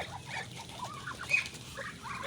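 Pet ducks feeding on cabbage, with soft, scattered quacks and fowl-like calls over a low, quiet background, one call briefly louder in the middle and no voices heard.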